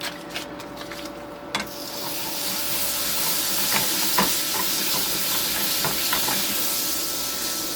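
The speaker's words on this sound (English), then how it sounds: "I have a really hot pan, and I'm going to start off with a little bit of butter." Butter sizzling and hissing steadily in a really hot pan, a broadband frying sizzle that swells after a brief start and holds loud and even, with a few small pops and clinks.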